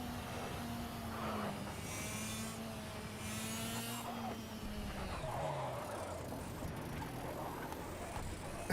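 Kart engine noise from a racing video game, played on a VR motion simulator, drones steadily and at a constant loudness for the whole stretch, with its pitch wavering up and down as the kart speeds along.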